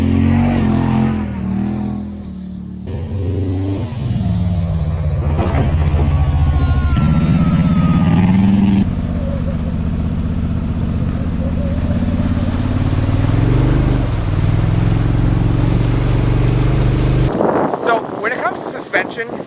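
A 2022 Polaris Sportsman 850 HO ATV engine drones loudly while riding over rough terrain, its pitch rising and falling with throttle amid heavy wind buffeting, and a voice talking over it.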